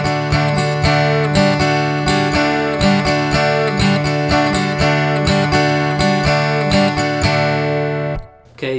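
Acoustic guitar plays a main theme. Bright, busy picking and strumming runs with quick repeated attacks for about eight seconds, close and loud, before stopping abruptly.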